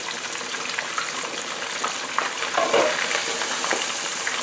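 Continuous loud sizzling and crackling of fish frying in hot oil, with brief splattering pops throughout.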